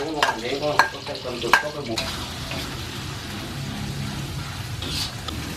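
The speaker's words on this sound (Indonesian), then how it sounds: "Tumis bumbunya." Spice paste for a jengkol dish sautés in a pan, a close, dense sizzle with scraping stirs and spoon knocks in the first two seconds, settling into an even frying hiss.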